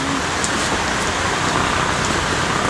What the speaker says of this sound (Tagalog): Hindi ako makababa. Umuulan.